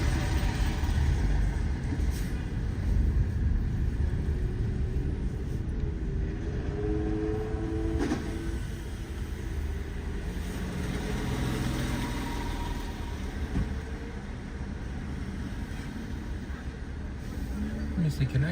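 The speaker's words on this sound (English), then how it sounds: "we're stuck in traffic here in downtown Paterson" Downtown Paterson, New Jersey street traffic: a steady, loud wash of idling cars and heavy engines close by, with a few brief honks or squeals, no talk over it.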